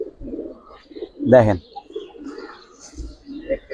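Pigeons coo in a loft of young silver Giribaz tumbler pigeons, one clear burst of cooing standing out between stretches of someone talking nearby.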